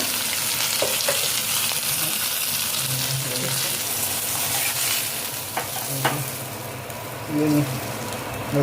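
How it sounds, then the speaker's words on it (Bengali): Fish frying in a pan with a continuous oily sizzle, broken by scraping stirs and a few sharp utensil clinks against the pan, all close and fairly loud. "এবারে মাছ ভাজা তো কমপ্লিট হয়ে যাচ্ছে"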